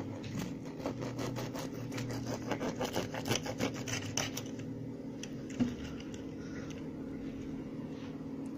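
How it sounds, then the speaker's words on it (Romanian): A knife saws through a fluffy doughnut topped with bacon cream, giving a quiet, close, rhythmic rasping of strokes that fades in the second half. "Am să tai una să vă arăt cum sunt pufoase și în interior."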